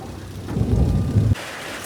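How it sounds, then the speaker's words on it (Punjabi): A deep rumble of thunder rolls under steady heavy rain, then cuts off abruptly, leaving the hiss of rain. "ਮੀਂਹ ਨਹੀਂ ਰੁਕਣ ਡਿਆ ਬੱਦਲ ਬਹੁਤ ਗੱਜਣ ਡਿਆ"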